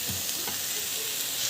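Chopped coriander sizzles in a hot oiled pan while being stirred, a steady close frying hiss with soft scraping strokes of a spoon.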